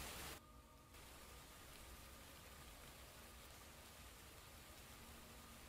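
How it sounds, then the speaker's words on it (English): Recorded rain played back on a livestream, a steady hiss of falling rain much like static that runs unbroken after a brief dip near the start, quiet and alone. "Does it sound like rain, or does it just sound like static?"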